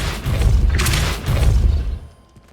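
A Depulso spell cast in Hogwarts Legacy, two heavy booming force blasts in quick succession, loud and close, each with a low thudding burst and bright crackle, fading into near silence at the end.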